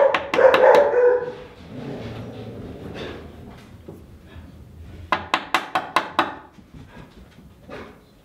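A dog barks at a UPS delivery, loud and close, in a quick burst of sharp barks, then a pause with lower sounds, then another rapid run of six or seven barks.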